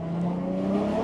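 Toyota JZX100 with a turbocharged 1JZ inline-six accelerating: a steady, moderately loud engine drone with rising harmonic tones, heard from inside the car with no talking.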